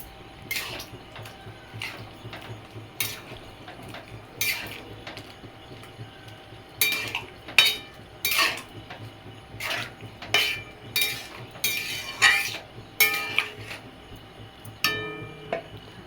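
A spoon stirs moong dal with bottle gourd in a metal pot, giving repeated sharp clinks and scrapes in irregular bursts, some close and loud, over a faint steady background hum.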